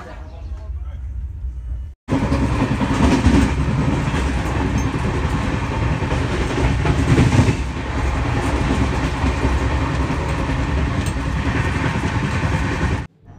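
A train at speed near Kamakhya Junction, a loud, continuous roar of wheels on rails with a steady rattling clatter, starting abruptly after a short quieter stretch and cutting off sharply near the end.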